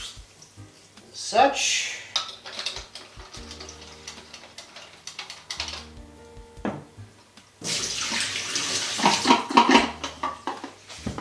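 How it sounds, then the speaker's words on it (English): Tap water runs and splashes while film developing gear and a jug are rinsed in a home laundry room used as a darkroom. Intermittent close clinks and handling are followed by a louder sustained gush, with brief speech. "I'm just going to give it a little bit of a rinse as well."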